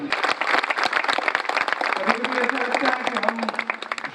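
Audience applause at a public gathering, a dense burst of clapping from a crowd, with a voice speaking over it partway through.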